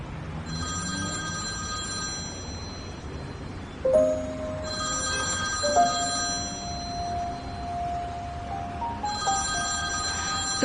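A telephone rings repeatedly in a steady electronic ringtone pattern, fairly close, with low background noise and no clear speech.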